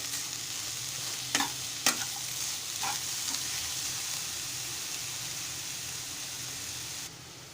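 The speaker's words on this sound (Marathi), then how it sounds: "खोबरं आणि गूळ आता एकजीव करून घेणार आहे व्यवस्थित" Grated coconut and jaggery being stirred together in a pan, with a soft steady sizzle and a few sharp scrapes of the spoon against the pan early on, quiet and close.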